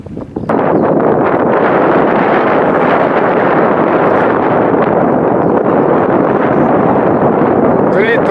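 Strong wind roars steadily across an open paragliding launch, a loud continuous buffeting rush against the microphone from the first half-second to the end.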